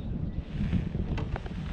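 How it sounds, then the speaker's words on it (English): Wind buffets the microphone in a continuous low rumble while bass fishing outdoors under clouds, gusting unevenly throughout with a few faint clicks on top. "it's windy today. Got some winds"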